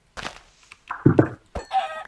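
Chicken clucks in the video game Minecraft, a few short separate clucking calls and a soft thunk spread across a brief quiet stretch, fairly close and with no talk.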